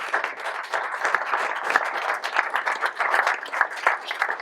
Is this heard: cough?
no